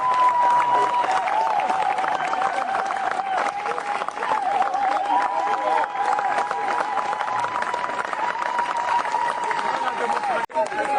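A large seated audience in a Congolese assembly hall applauds and cheers steadily to acclaim politician Martin Fayulu Madidi, with dense continuous clapping and crowd noise throughout.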